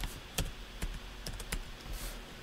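Keys clack on a computer keyboard in a quick, uneven burst of about half a dozen close, quiet strokes.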